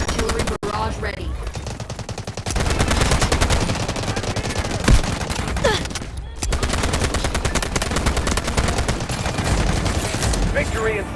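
Dense in-game gunfire and explosive artillery barrage from the Delta Force Mobile warfare mode, continuous loud rattling shots with heavier booms throughout, a brief lull near six seconds before the firing resumes.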